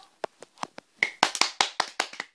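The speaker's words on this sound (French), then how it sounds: "Allez, un petit applaudissement." A dozen or so sharp hand claps ring out close by, sparse and uneven at first, then quicker and louder, like one or two people clapping briefly.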